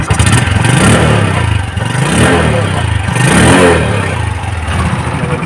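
A 2023 Bajaj CT100 motorcycle, a used bike, revs loudly and close up, its engine note rising and falling through several throttle blips over a steady idle.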